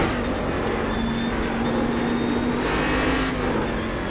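Open-wheel IndyCar engine in a racing video game holding a steady high drone at the Nurburgring, loud and continuous with slight pitch shifts through a corner, alone without talk.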